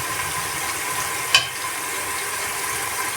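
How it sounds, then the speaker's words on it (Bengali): Onions frying in oil with whole spices such as peppercorns, star anise and bay leaves for a desi chicken curry, a steady close sizzle with one brief scrape of a stirring spoon midway. "পেঁয়াজটা একদম ভাজা ভাজা হয়ে আসছে"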